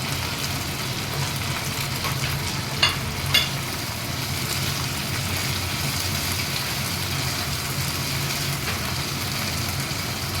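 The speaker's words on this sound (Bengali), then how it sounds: "আদা বাটাটা একটুখানি নাড়িয়ে চাড়িয়ে এর মধ্যে টমেটো দিয়ে দেবো" Ginger paste and two tomatoes are stirred in a frying pan for egg curry, giving a steady, close sizzle with a few sharp spatula scrapes against the pan near the middle.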